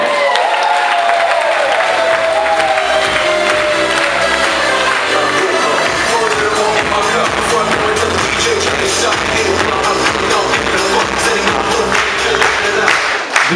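Sustained applause and cheering from a seminar audience in a hall, loud and dense throughout, with crowd noise and scattered shouts mixed in.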